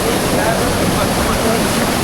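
A natural waterfall pours down from above into a pool, a loud, steady broadband rush of falling water that fills the whole clip without pause.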